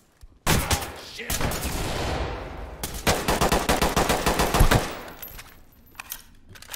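Heavy automatic gunfire in the tactical shooter Ready or Not, long loud bursts of rapid shots from several weapons overlapping, with a brief gap between volleys, then trailing off into quieter scattered sounds.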